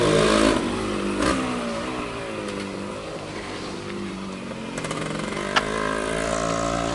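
A 1972 first-generation Yamaha LT100 motorcycle engine runs and revs continuously, a buzzy two-stroke drone that rises and falls in pitch, loud and close throughout.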